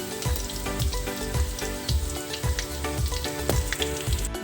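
Chicken fillet frying in oil in a pan, a loud continuous sizzle with rhythmic crackles and periodic low thumps as pieces are stirred or turned, with no talking.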